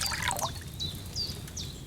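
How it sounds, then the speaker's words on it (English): Wine is poured from a pitcher into a cauldron in Kingdom Come: Deliverance 2, a soft steady trickling splash with faint chirping birds overhead in a quiet outdoor scene. "So, what did you pour in there? Wine, of course."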